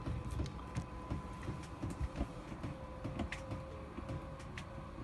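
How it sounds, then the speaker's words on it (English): Self-levelling legs on a 2019 caravan retract with a steady close motor whine and a rhythmic mechanical clatter, with no talking. "straight away you can hear the legs retracting"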